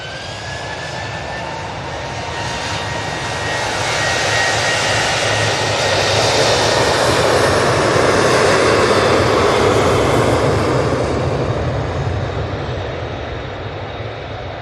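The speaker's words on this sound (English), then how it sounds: "Got this Ryanair now coming onto 23 left. It's off to Rome." A Ryanair jet bound for Rome takes off from runway 23 left at Manchester Airport, its broad engine roar swelling to a loud peak midway and then holding steady as it climbs away.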